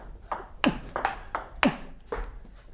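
Table tennis ball striking a Razanta 37 rubber on the softest of four sponges, five or six crisp clicky pings at an irregular, unhurried rhythm, close and fairly loud with no talking.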